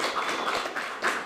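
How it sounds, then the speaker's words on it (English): An audience at a gun and gang violence conference gives a round of applause for Assemblywoman Mia Bonta, a brief, moderate wash of clapping from the crowd. "Let's give her a round of applause as she will be coming up soon."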